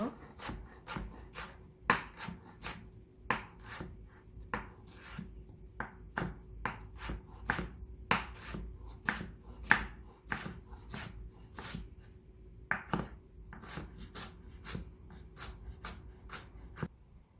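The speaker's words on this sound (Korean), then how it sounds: "쫑쫑 썰어주세요." A knife finely chopping ingredients on a cutting board for fried rice with tofu: quick, crisp taps in uneven bursts with brief pauses, close and clear over a faint steady hum, with no talking.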